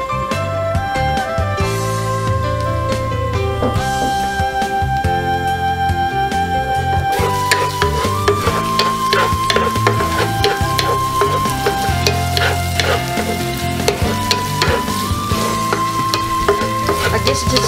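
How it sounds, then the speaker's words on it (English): Garlic sautés in a pan for adobo chicken wings with a constant crackling sizzle that grows busier partway through, set under loud background music. "To saute"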